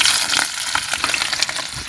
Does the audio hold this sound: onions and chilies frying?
yes